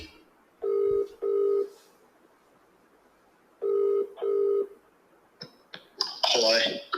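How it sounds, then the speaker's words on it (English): A telephone rings twice with double-burst ring tones separated by a pause. A few sharp clicks and a brief clatter follow as the call is answered. "phone is ringing."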